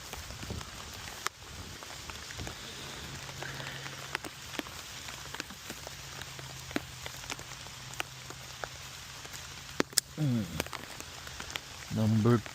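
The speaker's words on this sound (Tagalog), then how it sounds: "Lakas ng ulan." Heavy rain falls in a dense, steady hiss and patter with scattered sharper drop hits, continuous from start to finish, while brief voice-like sounds break through near the end.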